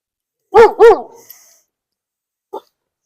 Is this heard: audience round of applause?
no